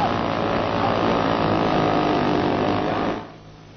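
A small model airplane engine during takeoff and stunt flight, a loud, steady buzzing drone that holds close and then suddenly cuts off near the end.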